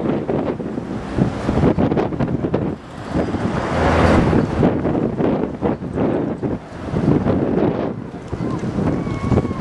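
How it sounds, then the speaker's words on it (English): Gusty wind buffets the microphone in loud, rumbling bursts that swell and ease, with voices faintly audible underneath. "It's very windy, huh? Is it too windy?"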